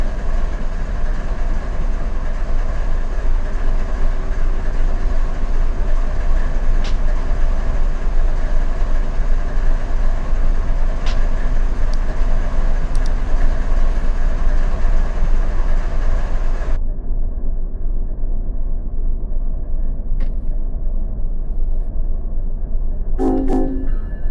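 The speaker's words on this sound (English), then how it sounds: "Train coming." A train rumbles past in the Run8 V2 train simulator, a loud continuous roll of rail noise with faint clacks that suddenly drops away, leaving a quieter low hum near the end.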